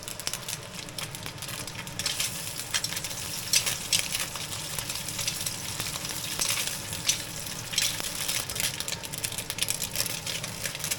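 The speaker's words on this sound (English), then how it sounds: "Then I add the sausage into the pan. Fry it until it's halfway cooked." Sausage fries in a hot pan at home, giving a steady, continuous sizzle with crackle and light spatter throughout, fairly close and alone with no talking.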